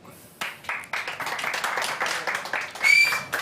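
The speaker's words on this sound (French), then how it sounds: "je vous demande d'applaudir les Enjoy." Audience clapping to welcome the Enjoy, a dance and comedy act, on a live show, beginning as a few separate claps that build into scattered applause with a brief whistle near the end.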